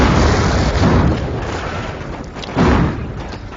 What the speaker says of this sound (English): The unmanned 57mm anti-tank gun already proving its worth.